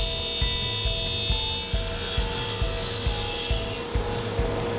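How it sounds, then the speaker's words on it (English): A table saw fitted with an 80-tooth ultra-smooth blade crosscuts wooden door pieces to final length, its motor humming steadily under a regular series of short thumps spaced about half a second apart, fairly loud and close. "To cut my pieces to final length, I'm using an 80 tooth ultra smooth blade to get a perfect splinter free cut."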